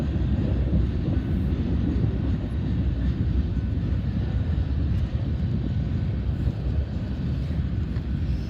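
A freight train passes through Garretson, South Dakota on a gusty day, giving a steady, loud low rumble that runs unbroken throughout, with no clear horn.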